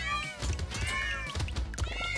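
Overlapping cat meows from the game Brotato, repeated several times in quick succession over loud game music and sound effects.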